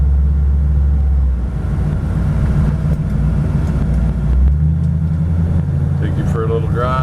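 A 1932 Ford Tudor sedan engine rumbles low and steady as the car drives along, with a brief shift in tone midway and a faint higher sound near the end.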